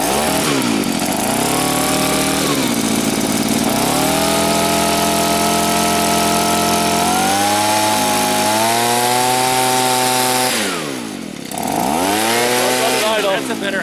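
A Stihl leaf blower that won't stay running, its small two-stroke engine revving loudly up and down with fluctuating throttle, dipping briefly near the end before picking up again.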